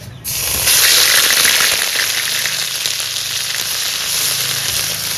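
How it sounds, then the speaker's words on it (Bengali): Cumin, cinnamon, cardamom, cloves, bay leaves and onion paste hit hot oil with a sudden loud sizzle, then keep frying in a steady, close, bright hiss. "ফোড়নে দেবো জিরে দারচিনি এলাচ আর লবঙ্গ দুটো তেজপাতাও দিয়ে দেবো আর দেবো পেঁয়াজ বাটা"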